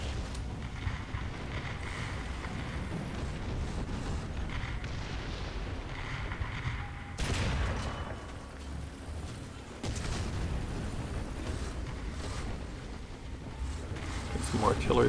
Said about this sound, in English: Artillery fire coming in.